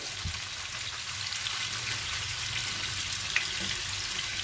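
Lamb ribs and kebab, seasoned with salt, pepper and ginger, sizzle on a grill with a soft, continuous crackling hiss, fairly quiet and steady, with a faint tap or two and no voices.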